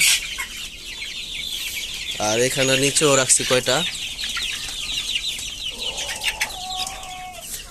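Chickens and roosters on a poultry farm cluck and call in a busy, continuous chorus, with a louder harmonic crow-like call in the middle and a person speaking over the flock.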